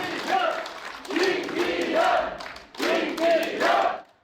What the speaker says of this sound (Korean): 지지자들의 환호 속에 등장한